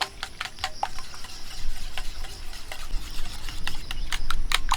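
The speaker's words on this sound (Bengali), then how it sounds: "ডিমগুলো ভালো করে মিক্সড করে নেব সব কিছু" Eggs being beaten with turmeric, salt and chili powder, heard as a quick, rhythmic clicking of a utensil against a bowl, close and steady throughout.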